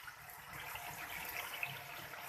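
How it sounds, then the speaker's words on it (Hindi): Water pouring into a cooking pot of browned beef and spices for nihari, a soft steady gush at low level with no voices. "अब हमने इसके अंदर पानी डालना है।"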